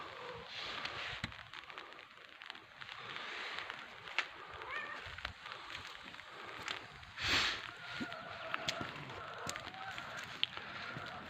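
A cat meows faintly a couple of times against a quiet background hiss, with soft clatter and a little talk nearby.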